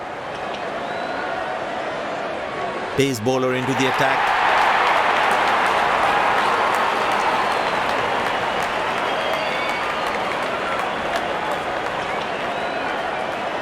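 A good crowd at a Pakistan versus England cricket match cheers and applauds as the openers walk out, sustained dense clapping filling the whole stretch, with a commentator speaking over it briefly.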